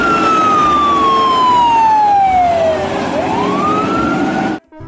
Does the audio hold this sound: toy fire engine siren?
yes